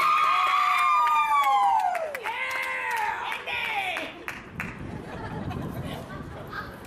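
A crowd at a charity walk event cheers for a contestant in a men's shoe competition, with loud rising and falling whoops and shouts over clapping, then fading into scattered chatter and lighter claps.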